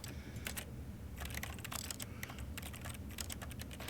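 Rapid typing on a keyboard in the video game The Stanley Parable demo, quick irregular clacks over a constant low background hum, with one firmer key press, the enter key, standing out.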